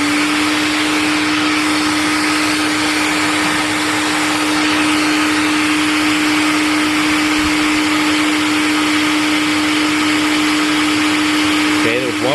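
A TriStar vacuum cleaner with a full HEPA bag runs steadily at high suction with a loud, constant motor whine and airflow roar, close up, ending with a brief rattle near the end.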